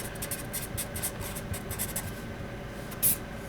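Pen writing out a conclusion by hand, a continuous close scratchy stroke sound with short pauses between words, soft and steady with no talking.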